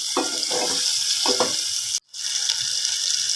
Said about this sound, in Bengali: মাছগুলো দিয়ে দিলাম, দিয়ে কষায়ে নেব সুন্দর করে